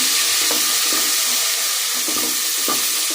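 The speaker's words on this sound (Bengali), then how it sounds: "এদিকে তেল দিয়ে দিলাম, তেলটা গরম হয়ে গেছে, পেঁয়াজ দিয়ে দিলাম।" Onions hitting hot oil in a pan while cooking a bottle gourd curry give off a steady, close frying sizzle with faint scattered crackles, with no voices.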